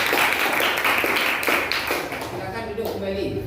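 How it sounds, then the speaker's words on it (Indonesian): Classroom applause from a group of students, a steady dense patter of many hands clapping that holds through the whole stretch at fairly even loudness, with voices mixed in. "yuk kasih aplaus dulu"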